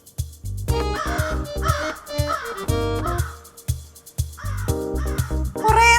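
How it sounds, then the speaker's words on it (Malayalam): A crow caws repeatedly in loud, harsh bursts, several calls in irregular succession at close range, with no talking over them. "കൊറേ നേരം കൊണ്ട് കാക്ക ഇരുന്ന് കരയുന്നു."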